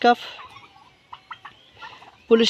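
Turkeys gobbling at a poultry farm, short rattling gobbles in quick bursts at mid distance, with louder close calls at the start and end.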